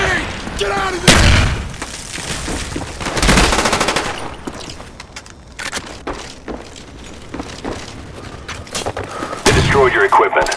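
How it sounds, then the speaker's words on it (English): Loud booming napalm strike explosions and gunfire in Call of Duty: Black Ops team deathmatch, several heavy blasts spread across the stretch with rattling shots and game voice callouts between them. "Napalm strike coming in hot."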